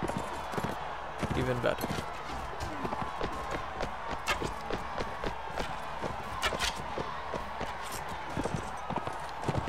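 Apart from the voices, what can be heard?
horse running in the video game Mount & Blade Warband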